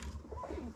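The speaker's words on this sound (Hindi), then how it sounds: "ये कबूतर रात में क्यों लड़ रहे हैं?" A brief, low pigeon coo at night, soft and close, with a throaty warble lasting under a second.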